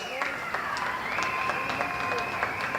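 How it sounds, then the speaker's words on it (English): Crowd at a boys hockey senior night in Chippewa Falls applauding the seniors, a steady wash of clapping heard at a distance in the arena, with sustained tones running underneath. "Everybody, let's give these seniors a big round of applause."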